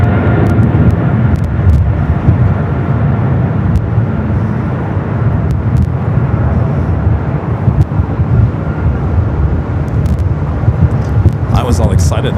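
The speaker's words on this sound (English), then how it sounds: "Air Cargo 777 freighter now rolling down to 25 right." An Air Cargo Boeing 777 freighter rolls for takeoff on runway 25 right at Los Angeles airport, a loud, steady engine roar holding for over twelve seconds while someone talks over it.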